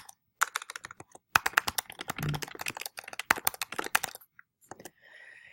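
Someone types a paper title in all caps on a computer keyboard: rapid clicking keystrokes close by, in bursts with short pauses, ending in a faint soft hiss.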